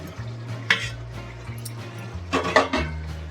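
A metal pot lid lifted off simmering potato curry, with a couple of sharp clinks of lid and utensil against the pan over a low steady cooking hum.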